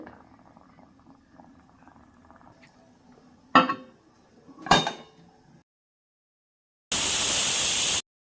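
A pressure cooker lid clatters a couple of times, then after a brief silence a loud, steady burst of hissing steam from its whistle lasts about a second, while cooking tomato rice.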